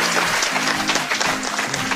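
An audience at a televised game show applauds the leading red team, a steady burst of dense clapping that fills the room at even loudness throughout.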